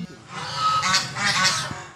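A toy goose honks twice in quick succession, close and fairly loud, forming a short nasal call with nothing else over it.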